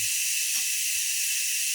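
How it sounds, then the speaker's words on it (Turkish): Meat fries in a pan with a little oil for tas kebabi, giving a steady, close, high sizzling hiss that stays constant throughout, with faint low knocks underneath. "Bir tavada onları az yağda şöyle güzel erzene bir kızartacağım"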